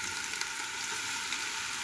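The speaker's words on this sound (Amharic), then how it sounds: "አሁን ሽንኩርቴን እጨምራለሁ፣ በደቃቁ ተከተፈ።" Finely chopped onions fry in a pan for a soup, giving a steady, dense, close sizzle that holds evenly throughout with no talking.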